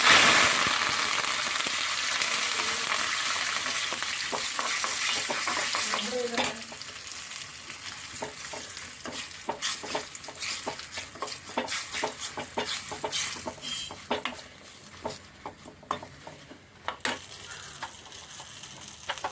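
Chili and curry leaves fry in hot oil for a mango curry with coconut milk, a steady loud sizzle that eases after a few seconds into crackling pops and spits alone, with no talk.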